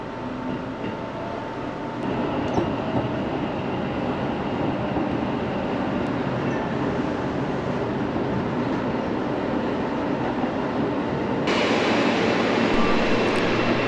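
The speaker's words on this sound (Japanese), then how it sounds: "この電車はワンマン運転です。" A Seibu Railway one-man-operated commuter train running on the rails, heard from onboard as a steady rumbling roar that grows slightly louder near the end.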